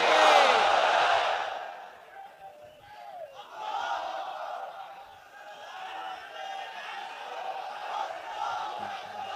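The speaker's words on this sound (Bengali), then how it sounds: "তাকবীর পড়ুন, লিল্লাহি তাকবীর" A large crowd at an Islamic sermon gathering shouts takbir, loud massed voices swelling at the start, fading, then rising again in further waves of chanting.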